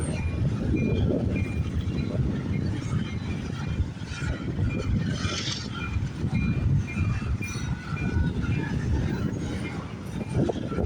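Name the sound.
CN freight train passing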